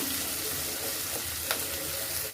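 Onions frying in a pan, a steady dense sizzle with a brief sharper crackle partway through, close and continuous with no talking.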